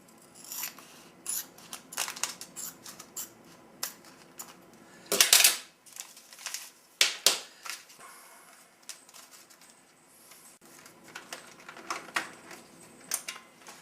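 Scissors cutting thick dry bag material, a series of close, crisp snips in irregular bursts with quieter gaps between, loudest around the middle.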